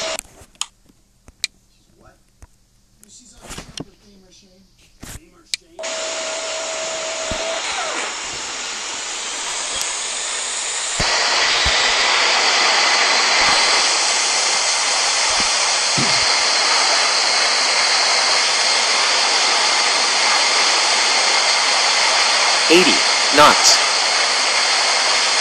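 An airliner's jet engines spool up for takeoff in Real Flight Simulator, a broad steady roar that swells sharply partway through and holds loud and close, with brief cockpit callouts spoken over it.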